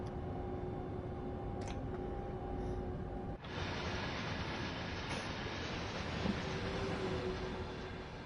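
A train locomotive rolls at speed in the Train Sim World 5 video game, a steady broadband rail roar with a faint whistle-like tone and a brief dip partway, continuous and fairly quiet, with no talking.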